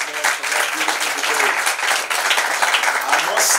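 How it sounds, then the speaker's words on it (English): Audience at a school debate breaks into sustained, dense applause that stays loud and steady for the whole stretch, with no voices rising above the clapping. "Wow, clap your hands once more for that"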